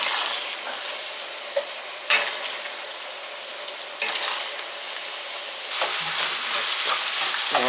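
Meat rendering down and sizzling in a high-sided pan for American chop suey, a steady loud frying hiss broken by several sharp scraping stirs, no voices.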